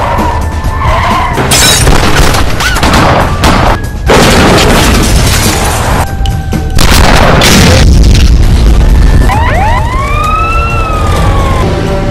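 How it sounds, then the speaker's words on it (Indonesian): Film shootout soundtrack in a crime action movie: loud, dense bursts of impacts and booms with crashing and shattering, rising sirens and whistling swoops near the end, a continuous chaotic mix with no talk. "baku tembak pun tak terhindarkan"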